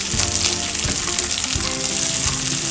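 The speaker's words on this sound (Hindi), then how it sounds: "अब तेज़ आंच में इसको थोड़ा फ्राई कर लें।" Shelled peas fry on high heat for a methi malai matar curry, giving a loud, steady sizzle throughout with a few soft knocks of stirring; no one speaks.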